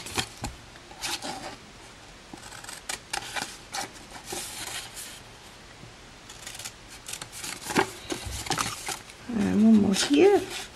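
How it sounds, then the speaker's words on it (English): Scissors cut card along score lines at the corners of a gift box, with repeated close snips and rasping under steady speech. "We're going to cut up the score line on each corner."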